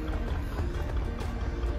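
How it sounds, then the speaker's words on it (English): A traditional narrowboat engine runs on the canal at the Braunston locks, giving a steady, low, rumbling throb that holds an even level throughout with no talk over it. "You can hear the sound of a trad engine, that's not us."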